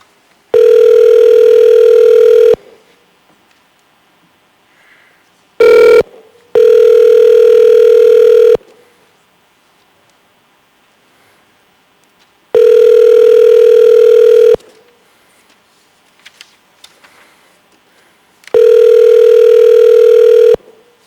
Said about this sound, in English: Let's go ahead and switch over to the phone and try Ms. Laura Moeller one more time.